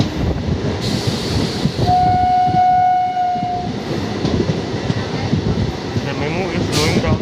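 A MEMU commuter train on an Indian Railways line slows with a steady loud rumble of wheels and carriages, a sustained horn-like tone sounding for a couple of seconds near the middle, and talking heard over it.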